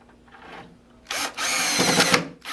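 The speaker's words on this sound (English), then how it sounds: "grab your drill with your Phillips head bit and grab 4 number 8x2 screws, and we'll go ahead and screw those into place" A power drill with a Phillips bit drives a #8 x 2 screw into a wooden pullout pantry rail, two loud close bursts of whirring with a short pause between, after a quieter stretch of faint handling noise.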